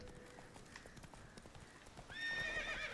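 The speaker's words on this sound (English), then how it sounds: "I'm really glad that this horse can't throw you off like in other games" Hoofbeats of the horse Roach in The Witcher 3 clop steadily at a gallop, then a loud whinny rises near the end, with no talking over it.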